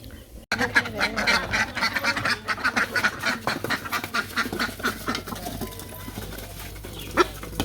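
Ducks quack repeatedly in an outdoor rural spot on a breezy afternoon, a busy run of close, rhythmic calls that thins out toward the end, with one louder quack near the finish.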